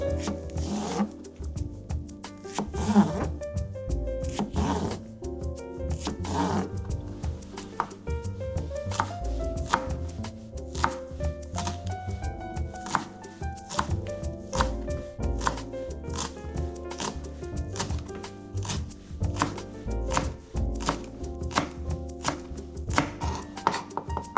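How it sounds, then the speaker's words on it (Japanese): Knife finely chopping Japanese long green onion (naga negi) on a cutting board, a fast steady run of crisp, close taps continuing throughout over soft background music. "長ネギをですね、みじん切りにしていきたいと思います"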